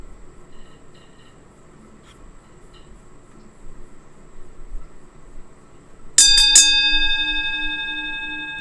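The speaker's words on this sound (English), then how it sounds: "So right now I looked up boxing bell sound." A boxing bell sound effect rings out loud and bright, a quick triple strike followed by a long metallic ring that fades, after several seconds of near silence.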